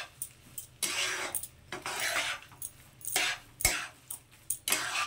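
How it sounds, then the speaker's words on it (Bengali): Curd rice is stirred in a pan over low gas: a spoon scrapes and clinks against the metal in irregular bursts, close and fairly loud, with no talk. "খুব ভালো করে মিশিয়ে নেব এটাকে।"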